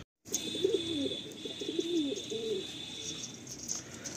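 Madrasi pigeons in a loft coo in repeated low, rolling phrases, steady and close, over a constant high-pitched background hum.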